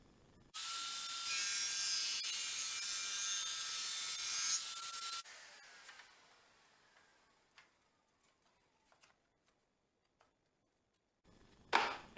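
A loud, steady high-pitched whine of a table saw with a Freud dado blade set to 3/8 inch cutting wood lasts about five seconds, then winds down into quiet ticks and clicks.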